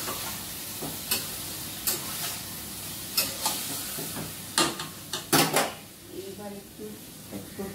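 Vegetables for Bengali sukto stirred in a pan, sharp intermittent scrapes and clatters of a spatula against metal over a soft sizzle, with a voice speaking in between.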